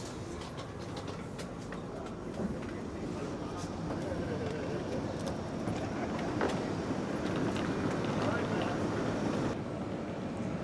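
Portugal's Alfa Pendular high-speed train pulls into its final stop after a short run across the river, a steady rolling rumble with faint rail clatter building slightly, while someone talks over it.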